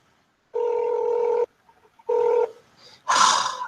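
A phone call rings out while waiting for someone to answer: two long ringback tones separated by a pause, followed by a short burst of noise, with no talking.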